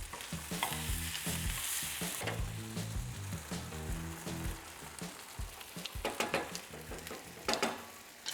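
A one-pot risotto-style pasta being stirred in a sizzling pot, with repeated scraping and clattering strokes of the spoon over a constant frying hiss, close and fairly loud.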